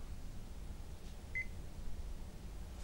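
A telephone gives a short electronic beep after the call disconnects: one brief, quiet double tone partway through, heard against a low steady background hum with no talking.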